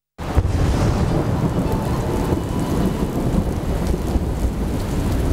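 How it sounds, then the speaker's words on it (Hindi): A thunderstorm sweeps over Pakistan with heavy, steady rain pouring down close by, mixed with deep rolling thunder rumbles. The downpour is loud and continuous and starts abruptly. "गरजते बादल, बरसता पानी।"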